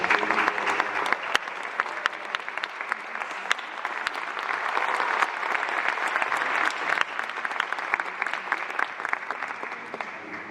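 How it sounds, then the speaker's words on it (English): A school talk audience gives a round of applause for student speaker Jaryd Lara, dense continuous clapping with scattered sharper claps, steady and fairly loud throughout. "One more round of applause for Jaryd."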